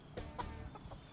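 Golden Comet hens eating mealworms give a few soft, short clucks, about four quick notes, faint against low background noise.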